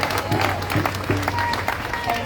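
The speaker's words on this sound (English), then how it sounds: "Big round of applause for Jasmine, everyone." Crowd applause at an outdoor Free Palestine rally in Melbourne, brief steady clapping with voices mixed through it.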